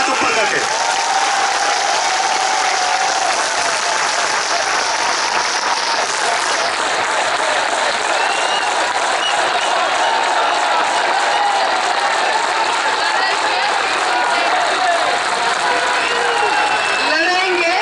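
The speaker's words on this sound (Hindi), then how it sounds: "एक बार जोरदार तालियां चाहता हूं पूरी टीम के लिए" A large audience gives a team loud, sustained applause with cheers and whoops, a dense unbroken wall of clapping that carries on for the whole stretch.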